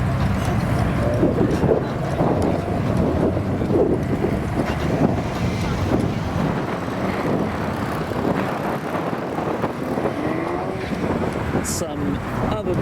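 Strong wind buffets the microphone outdoors at a breakfast car meet, a steady broadband rush throughout with cars faintly in the background and a person speaking over it.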